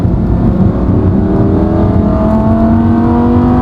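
An Audi R8 V10 Performance engine roars steadily and loud, its pitch climbing as it accelerates, with a dense rumbling drone throughout and no voices.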